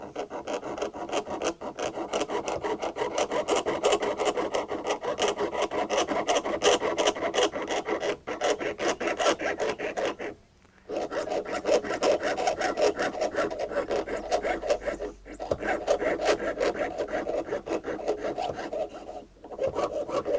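A fine-toothed saw rasps in quick, steady back-and-forth strokes close up, cutting a piece out of metal, continuing for a long stretch with a few short pauses.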